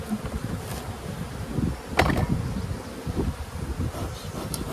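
Honey bees buzz in a steady, dense hum inside an open beehive, with faint handling knocks and scrapes around them and no talking.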